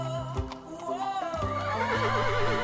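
A horse whinnies loudly with a long wavering neigh, its pitch rising and trembling in a vibrato toward the end, with faint hoof clip-clop early on and no voices.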